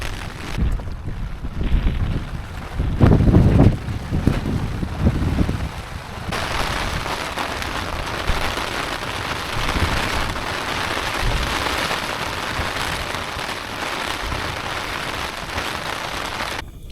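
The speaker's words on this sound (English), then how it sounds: "the rain's been battering the tent and then not battering the tent" Wind and rain batter a tent while wild camping in a remote spot in England, a dense close patter and roar of drops on fabric with gusts swelling and easing, loud and continuous.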